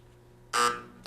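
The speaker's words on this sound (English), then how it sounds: "The buzzer came" A quiz show time-up buzzer at a 1997 high school quiz match sounds one loud, harsh electronic blast lasting about a fifth of a second, followed by a brief clipped second burst at the end.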